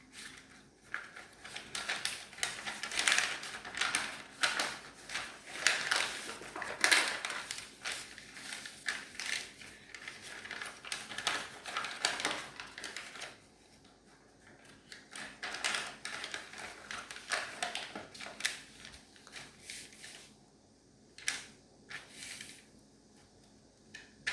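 Paper being folded and tucked into an origami cupid, with bursts of crisp crinkling and tapping close by, separated by quieter pauses.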